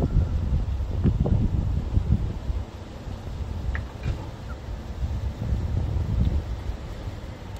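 Strong wind gusts roar through a snowstorm in Grenoble, Isère, with sustained low rumbling buffeting and microphone wind noise, easing briefly in the middle before surging again.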